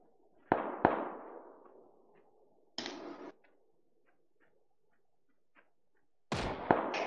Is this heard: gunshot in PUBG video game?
yes